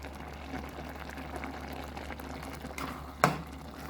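Jamaican hominy corn porridge boils in a pot with a faint, steady bubbling and simmer, broken by one sharp clink near the end.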